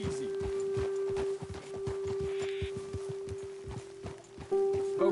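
Horse hooves clip-clop at a walking pace in Red Dead Redemption 2, a run of distinct, regular, fairly close thuds over a faint steady tone.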